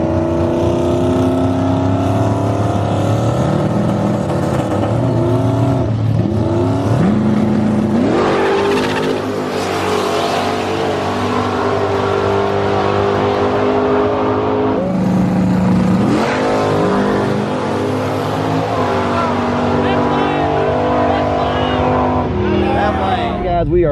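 Drag cars, including a 2020 Mustang GT and a Foxbody drag car, roar down a nighttime dragstrip, engines revving hard and rising in pitch through repeated launches, loud and continuous with a voice talking over them.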